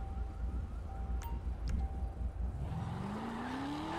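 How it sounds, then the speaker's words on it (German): A loud car in an open-world video game, set up in the hills, with a rumbling engine under wind-like roar and a rising engine tone near the end. "Ich mag das Auto. Es ist schön laut."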